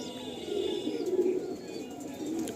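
Pigeons coo softly in a loft in Kolkata, a low rolling warble rising and falling over a faint background hum, moderately close, with no talking over it.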